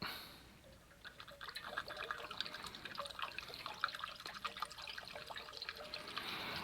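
Kerosene poured quickly out of a Kamplite IL-11a inverted lantern into a container, a steady splashing trickle of liquid that runs continuously and fairly close.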